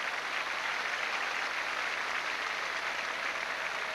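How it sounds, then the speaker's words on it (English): Football crowd at The Den applauding Kevin O'Callaghan during a 1988-89 Millwall v Middlesbrough match, a steady, distant wash of clapping sustained evenly throughout. "Kevin O'Callaghan receives the applause."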